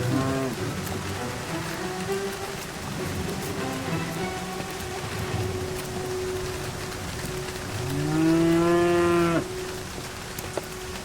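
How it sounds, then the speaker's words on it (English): Cattle moo in the rain, several drawn-out low calls over the steady patter of rainfall, with one loud, close moo standing out near the end. "The cattle are exposed to the rain with no protection"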